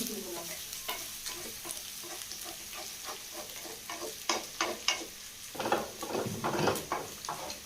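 Onions frying in desi ghee for saag, stirred with a utensil in the pan: a continuous close sizzle broken by repeated scraping strokes that grow louder and busier toward the end, with no voices.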